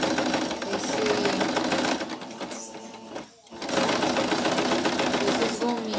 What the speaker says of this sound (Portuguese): Costurinha aqui nas pontinhas das pétalas.